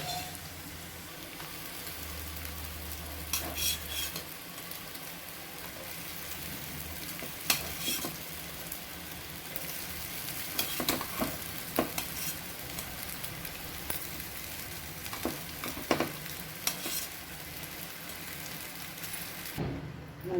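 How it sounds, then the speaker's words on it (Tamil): Cooked rice with turmeric is stirred in a frying pan for a citron rice dish. A spoon scrapes and clinks at intervals over a soft, continuous sizzle. "கிளறிட்டு சாதத்தில் வதக்கிடலாம், மஞ்சத்தூள் போட்டு."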